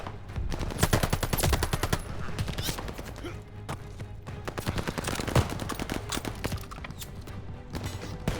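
Machine gun fire in a Call of Duty Vanguard battle, with dense rapid bursts early on, then scattered shots and further bursts amid battlefield noise and shouted voices.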